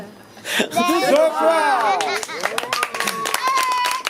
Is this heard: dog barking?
no